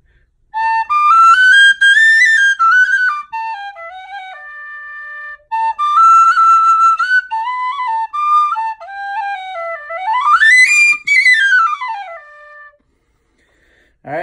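A high D tin whistle of white CPVC tubing with a brass part and a Delrin fipple plug plays a clear, bright melody of rising and falling notes and trills, loud and close, with short pauses between phrases.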